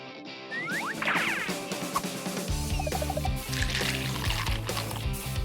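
Water poured into a small homemade water play area for pets, with a trickling, splashing pour running steadily and close by after a few brief squeaky chirps at the start.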